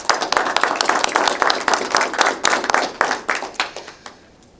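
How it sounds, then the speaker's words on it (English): A small audience at an outdoor civic campaign kick-off gives a brief round of applause, a burst of close, fairly loud clapping that thins into a few scattered claps before stopping. "Let's give them a round of applause."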